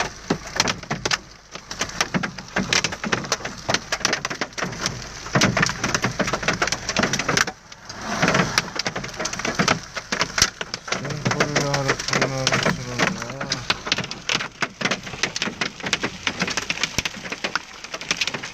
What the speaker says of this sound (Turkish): Yağmurun yerine buz yağıyor.